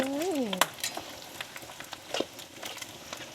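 Food fries in hot oil until golden and crispy as a noodle-soup topping, a soft, steady sizzle with scattered pops and stirring clicks, and a brief voice at the start.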